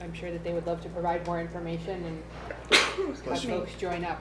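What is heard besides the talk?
a person sneezing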